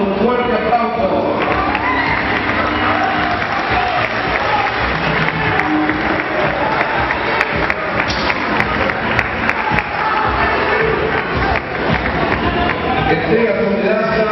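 A crowd at a social and sports club's dinner honouring third-division champions gives Santiago Rodríguez loud, sustained applause, a dense wall of clapping that stays strong from start to finish.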